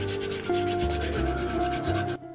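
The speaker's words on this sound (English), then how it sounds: "all that's left to do is sanding" Continuous rough rubbing and scraping of sandpaper worked back and forth over hardened clay on a figure, close up, with a low hum underneath and no voices.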